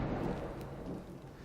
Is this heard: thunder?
yes